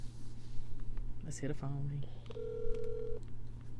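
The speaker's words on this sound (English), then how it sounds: "Let's hear the phone ring" A telephone call is being placed, with a quick burst of dialing tones followed by a steady ringback tone, heard over a constant low hum and a murmur of voices in the background.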